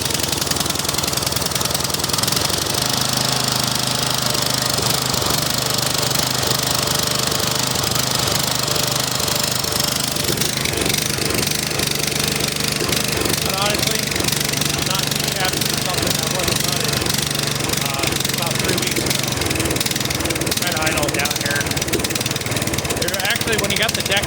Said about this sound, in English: I'll give you a cold start here. It does run a little bit rough